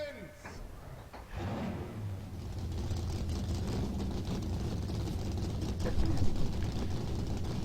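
Several race car engines fire up together in NASCAR Racing 2003, a loud steady multi-engine drone that swells after a second and holds, with a voice talking faintly over it.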